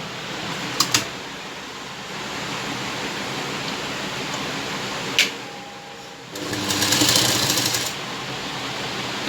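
A sewing machine stitches double-folded fabric on a lined katori blouse, with steady close whirring runs broken by short pauses and a louder, faster burst near the end.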